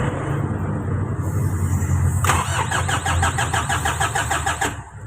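A Mitsubishi L300 engine is started after a timing belt replacement: the starter cranks briefly, then the engine catches and settles into a loud, close idle with a rapid rhythmic ticking.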